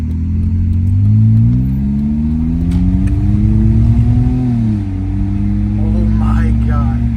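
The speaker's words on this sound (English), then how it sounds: "Oh my god, that sounds so good. That's much better than the stock muffler, obviously." A car engine with its muffler cut off revs hard and loud, pitch climbing in steady surges then dipping and rising again, with excited voices talking over it.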